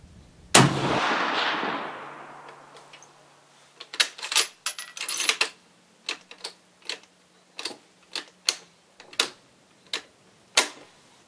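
Mosin Nagant rifle fired at an outdoor range: one loud booming shot with a long rolling echo, followed by a rapid series of sharp, close metallic clicks and clacks from working the bolt and handling the rifle.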